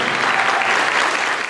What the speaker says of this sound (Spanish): un aplauso a nuestra patria